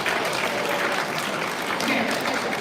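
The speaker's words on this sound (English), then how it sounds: "Clap for your parents right now." Seventh grade band students at a winter band concert applaud their parents, a steady, dense wash of many hands clapping together for a few seconds, close and loud, with some voices mixed in.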